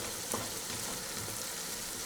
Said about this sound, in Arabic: نبقى مستمره في التحرك حتى تشحر العناصر كلها مزيان